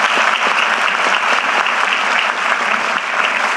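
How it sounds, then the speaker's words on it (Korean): Loud, dense applause from a large audience at a Jeju Island public meeting on an undersea tunnel, steady and sustained throughout, with no pause. "박수 한번 주세요"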